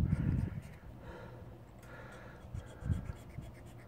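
A tool scrapes an old gasket off a GY6 scooter's CVT cover in short, rough strokes up close, a few heavier scrapes standing out against the quieter background.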